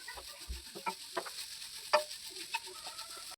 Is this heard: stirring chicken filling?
yes